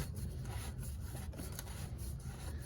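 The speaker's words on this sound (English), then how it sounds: "So just turn it by hand" An oil filter turned by hand onto the engine of a 2012 Volkswagen Passat during an oil change, heard as a steady close rubbing, grinding scrape with soft periodic clicks and no talking.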